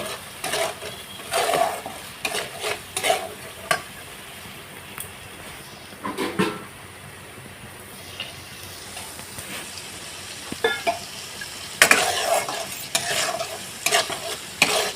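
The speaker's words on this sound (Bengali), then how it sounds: "আবার আমি এই মশলার সাথে কষিয়ে নেব" Ground spices with Kashmiri chilli, coriander and cumin are sautéed and stirred in a pan for a mock paneer dish made from potato and rice. Irregular scraping strokes of the spoon run over a steady sizzle, close and fairly loud, with no talking.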